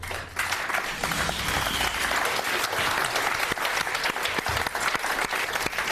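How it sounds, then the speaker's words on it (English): Sustained, loud studio audience applause on a 2006 episode of the game show Deal or No Deal, dense clapping filling the whole stretch with no voices over it. "And the applause says it all."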